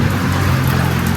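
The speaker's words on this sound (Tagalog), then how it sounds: "Pinaandar ko muna yung motor." A washing machine wash motor, spare unit being tested, runs with a steady loud hum and whine, continuous without talk.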